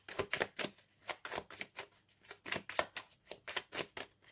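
Tarot cards are shuffled for a reading, producing quick crisp riffling bursts that repeat in an uneven rhythm, close and fairly quiet with no talking.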